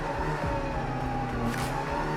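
A TCR touring race car accelerating at a race start at Sydney Motorsport Park: a close, steady engine roar with rising revs and a gear change, heard alone.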